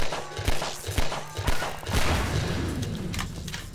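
Gunfire in Half-Life 2, a run of muffled thumping shots in an uneven burst followed by dull rumbling impacts, moderately loud.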